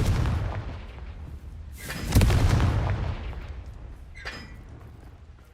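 Confringo fire spell bursts in the Hogwarts Legacy video game: a loud booming blast at mid-clip with a crackling rumbling tail, an earlier softer whoosh, and a small flaring burst near the end over low background ambience.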